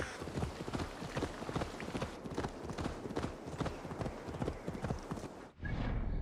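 Horse hooves clip-clop in a quick, steady galloping rhythm while riding in Assassin's Creed Valhalla, loud and close, with a brief cut near the end.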